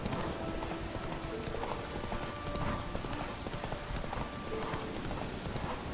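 A horse gallops in The Witcher 3, with steady rhythmic clip-clop hoofbeats running throughout at moderate loudness over a background of ambient game sound.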